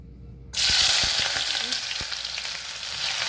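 Onions and peppers hit hot oil for catfish with a sudden loud sizzle that holds steady, broken by a few spoon scrapes and knocks against the pan as they are stirred.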